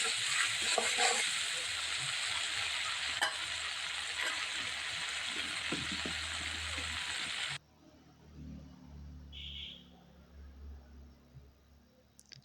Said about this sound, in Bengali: অল্প আঁচ দিয়ে ভেজে নেব। মশলা তেল ছাড়লে, তেল ছাড়া ছাড়া ভাব হয়ে গেলে